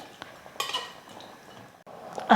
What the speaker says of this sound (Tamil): அரிசி சேர்த்ததுக்கப்புறம் நல்லா கலந்து விட்டுடுங்க.